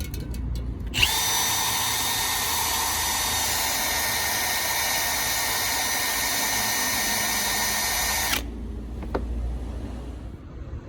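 Power drill spinning a PCV valve or MAP sensor part from a CityBug for cleaning: a steady, loud, high-pitched whine runs for about seven seconds, starting and stopping abruptly, with quieter handling noise on either side.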